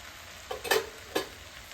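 Masala paste is dropped into the middle of a pot of cooked Kerala avial vegetables, giving a few soft wet plops and brief sizzling stirs, close and quiet, with no talk.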